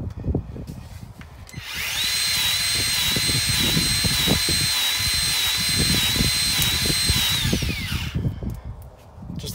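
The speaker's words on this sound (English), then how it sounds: "We're gonna start lubricating over U-joints" A steady, loud mechanical whir runs for about six seconds near the driveline of a step van during U-joint greasing, starting and stopping abruptly over low shop clanks and rumbling.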